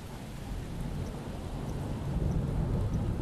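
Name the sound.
thunder during a storm in an animated film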